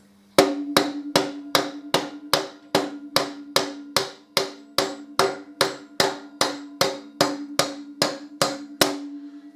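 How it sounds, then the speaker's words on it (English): Steady, evenly spaced tapping of a nylon hammer on metal on a Harley Davidson Deuce trike conversion, about twenty sharp strikes in a row, each with a brief ringing decay, close and loud. "I might need to give this a tap with my nylon hammer."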